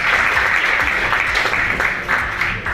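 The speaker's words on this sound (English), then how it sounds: "Give yourselves a round of applause." An audience at a Miami tech retreat morning session applauds, a steady wash of many hands clapping together, loud and sustained throughout.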